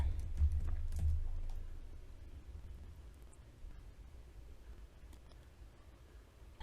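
Quiet keystrokes on a computer keyboard while entering text into a form field, a few faint clicks near the start over a low, steady background hum.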